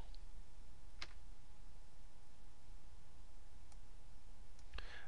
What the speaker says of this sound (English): So I'm going to click that right there.